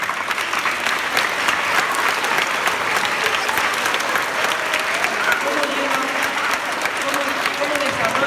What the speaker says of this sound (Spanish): Un aplauso os invito para Magdalena por ese fenómeno